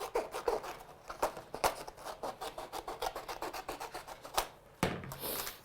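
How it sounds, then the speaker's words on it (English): Scissors trim a sheet of paper in quick, repeated snips, a rapid rhythmic series of crisp cuts up close with a brief pause near the end. "I'm just going to trim this down with my scissors"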